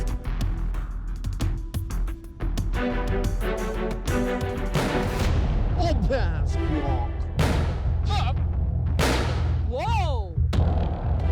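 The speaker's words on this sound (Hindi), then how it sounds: "ये धमाका आपकी सेफ्टी के लिए था" A loud explosive blast booms on a television show set, heavy low thumps and bursts rolling out over several seconds amid startled voices and excited talk.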